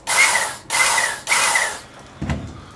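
A Work Sharp MK2 knife and tool sharpener motor whirs up three times in quick on-off bursts of about half a second each, loud and close, followed by a short thud.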